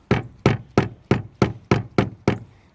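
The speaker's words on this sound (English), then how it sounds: "I got a rubber mallet, and I've been kind of hitting it around the sides" A rubber mallet strikes the side of an OMC Cobra stern drive eight times in a steady rhythm, each blow a sharp, close, dull knock.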